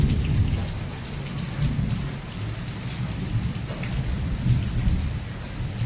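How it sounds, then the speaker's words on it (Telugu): Heavy rain pours steadily at night over a village in Nellore, with thunder rumbling through the downpour. The roar is dense and continuous, and no one speaks. "వర్షం మాత్రం బాగా పడుతుంది"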